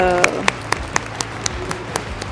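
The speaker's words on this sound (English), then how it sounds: "It's the loudest clap actually." A sumo tournament crowd claps in a Tokyo arena, sounding as sharp, evenly spaced claps in a steady rhythm over a low background murmur.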